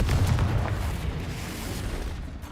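A deep, booming explosion from the Bombarda spell in the game Hogwarts Legacy: one loud low-heavy blast at the start that rumbles and slowly fades with no talking.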